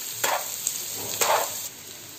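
Street-style egg bhurji with onion frying on a high flame gives a soft, steady sizzle, with a few stirring scrapes in the pan, close and fairly quiet.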